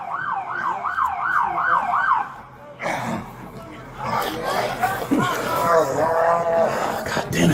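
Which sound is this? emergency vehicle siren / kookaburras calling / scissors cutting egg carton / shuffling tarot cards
emergency vehicle siren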